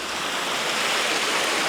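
A cascading waterfall on Dartmoor moorland gives a steady, broad rushing roar of falling water, dense and continuous throughout, fairly close and with no voices over it.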